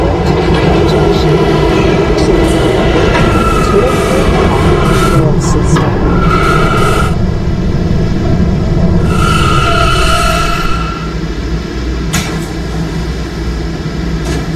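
An R179 subway train runs in the Roblox PTA Subway game on the B line, giving a loud steady rumble and rail hum throughout, with a few chimes and tones along the way.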